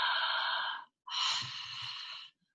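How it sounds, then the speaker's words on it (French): Two long open-mouthed exhales like fogging a window pane, a breathing technique from yoga practice. Each is a steady, breathy, airy rush, separated by a short pause, close and alone. "c'est comme quand vous faites de la buée sur une vitre, la bouche ouverte"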